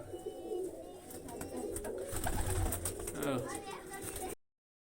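Pigeons coo in soft repeated low calls nearby, mixed with rustling and handling noise, and a person talks intermittently over them.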